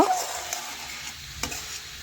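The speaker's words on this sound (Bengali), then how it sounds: "এখন ভালোভাবে নাড়াচাড়া করে দেখুন আমি মিশিয়ে নিলাম" Fried sattu being stirred in a cooking pan, a soft sizzling scrape with a faint clink or two, close and fairly quiet.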